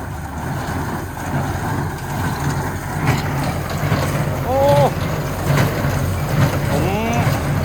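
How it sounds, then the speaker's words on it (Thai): A Kubota HB 135 straw baler runs with a steady, loud mechanical drone and rattling in an open field, occasional rising whines cutting through as it works. "อยู่กับเจ้าคูบัต้าเครื่องอัดฟางครับ HB 135 ครับ"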